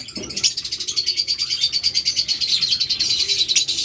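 A pair of pearl blue lovebirds chirps rapidly and continuously at close range, a loud, high, rhythmic stream of tweets with no talking.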